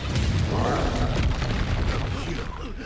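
Expulso spell blasts going off in the Hogwarts Legacy video game, a dense, loud low-end boom rumbling steadily for a few seconds before fading slightly, with faint voices underneath.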